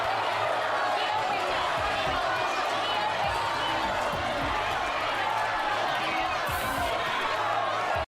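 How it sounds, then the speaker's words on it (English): A studio audience on the game show Deal or No Deal shouting at a contestant, a dense, steady roar of many voices filling the whole stretch before it cuts off abruptly. "I listen to how just everybody in the crowd is shouting at him"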